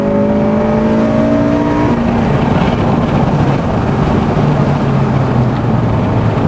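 A Honda Civic Type R FN2 track day car drives on a circuit, its engine holding a steady loud drone with a tone that drops as it shifts, under constant heavy wind buffeting, no voices.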